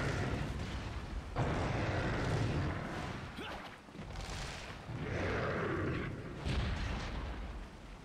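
Heavy booming blasts from an exploding barrel and a frag grenade in Resident Evil 4, several loud rumbling bursts that swell and decay with short lulls between them.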